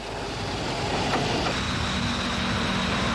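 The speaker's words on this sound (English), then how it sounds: "a ride on a toast rack tram on a track through the bush" An old toast rack tram rumbles along a track through the bush, a continuous low rolling clatter with a faint hum, steady and moderately distant, with no voices.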